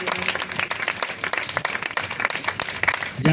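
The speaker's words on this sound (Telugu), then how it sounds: "గట్టిగా చప్పట్లు కొట్టి వారిని ఆహ్వానిద్దాం." An audience at a gathering breaks into brisk, dense applause to welcome a speaker, with clapping that continues steadily throughout.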